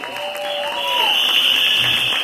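Applause from the audience at a film trailer launch, a dense patter of clapping that swells in the second half, with a high electronic tone from the sound system running beneath it.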